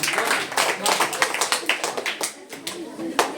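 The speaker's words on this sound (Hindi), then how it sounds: "जोरदार तालियां बच्चे की" Schoolchildren clapping in a classroom during a geography lesson, a run of quick irregular claps mixed with a teacher's voice speaking.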